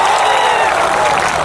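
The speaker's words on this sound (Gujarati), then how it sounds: "એમની માટે જોરદાર તાળીઓ થઈ જાય." A political rally crowd at an Aam Aadmi Party event in Gujarat bursts into dense, loud applause, a brief continuous wash of clapping with faint cheering mixed in.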